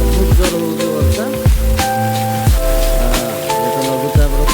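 Heavy rain pours steadily on a morning in Odisha, a dense close hiss with drops striking surfaces, overlaid by stacked horn-like tones that swell and cut off in rough one-second bursts.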